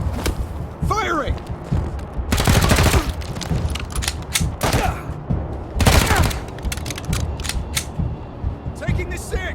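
Gunfire in the video game Wasteland 3, loud repeated bursts of shots in a rapid firefight with sharp gaps between volleys, game character voices calling out over the shooting.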